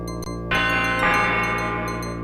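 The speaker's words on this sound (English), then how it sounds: "Ring the doorbell to start the chimes." Doorbell chimes in the JumpStart Adventures 3rd Grade: Mystery Mountain video game: a short knock-like tap, then a bright sustained bell tone that rings out and blooms once more, clear and alone.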